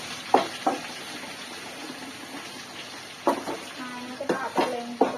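Curry leaves and papads frying in oil in a pan, a soft steady sizzle with occasional louder crackles and spatters, plus clinks and stirring of utensils and faint background voices.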